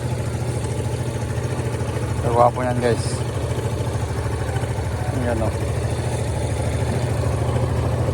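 Y250 motorcycle engine idling while it warms up, a steady low throbbing drone running throughout, with someone speaking briefly over it partway through.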